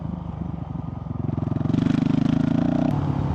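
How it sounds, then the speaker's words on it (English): Honda CRF450RL motorcycle with a stage 2 tune and aftermarket exhaust pipe, close and loud, its pulsing exhaust note rising as the engine revs up, then settling smoothly with no popping. "Listen to the pipe."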